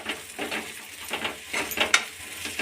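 Masala spices frying in oil for a matki rassa curry, a soft crackling sizzle with scraping stirs and a few sharp clinks of a spoon against the pan, close and fairly quiet.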